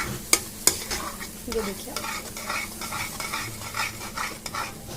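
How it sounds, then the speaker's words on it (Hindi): Halwa is stirred in a pan on a low gas flame, a steady scraping swish with a soft sizzle and two sharp utensil knocks near the start, as a voice briefly speaks. "गैस को कर देंगे कम, इसको बढ़िया तरीके से हम चलाएंगे, एकदम बढ़िया तरीके से।"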